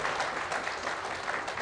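Audience applause at a Telangana political gathering honouring Prasanna Harikrishna, a dense, steady wash of many hands clapping at even loudness throughout, with no voices standing out.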